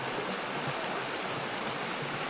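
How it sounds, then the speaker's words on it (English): A small waterfall at a campground rushes with a continuous, even hiss of falling water, steady and moderately close, with no voices over it. "So we'll have this little waterfall right here."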